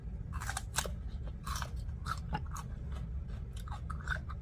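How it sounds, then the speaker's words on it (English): Loud, crunchy chewing heard up close, a steady series of sharp bites and crackles filling the whole stretch with no talking. "Sounds like Eve eating."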